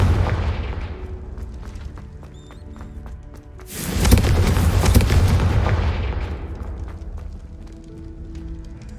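Confringo fire spell going off in Hogwarts Legacy: a loud, close explosive burst with crackling roar midway through, rising out of quieter low rumbling game ambience and fading into a lingering tail.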